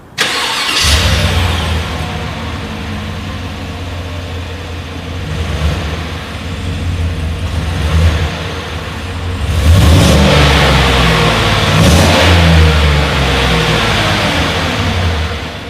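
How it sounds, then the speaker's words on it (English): A 2020 Chevrolet Tahoe SUV's exhaust as the engine starts, settles into a steady idle, then gets several loud revs toward the end, recorded close at the rear with no talking. "As always, here is that exhaust clip."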